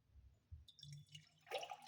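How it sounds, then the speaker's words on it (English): Room temperature water poured into a jug, heard as soft drips and splashes that build to a brighter, louder gurgling pour near the end, close and without talk. "put some water,"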